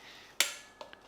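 A metal lid set onto a cooking pot of Telangana-style pappu pulusu (dal) after tempering, one sharp clank followed by two lighter taps, close and fairly quiet.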